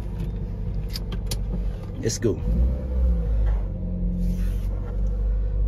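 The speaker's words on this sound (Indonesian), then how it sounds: "Kita coba nyalakan, kita kendarai yuk mobil ini." Used ex-taxi car from a Surabaya resale lot, its engine running steadily with low rumble while driving, a short spoken line and brief clicks over the drone.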